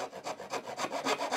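Hand saw cutting through wood on a hand-tool dog bed build, about seven quick, even back-and-forth rasping strokes, close and fairly quiet.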